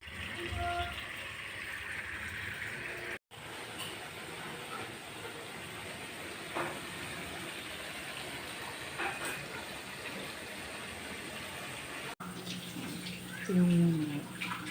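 Water poured into a pan of sardines for a Filipino sardine dish with malunggay and sotanghon, a steady rushing pour lasting several seconds at close range.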